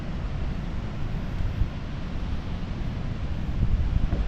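Niagara Falls rushes as a steady broad roar of falling water, heard from a distance through heavy wind buffeting the microphone, with no voices.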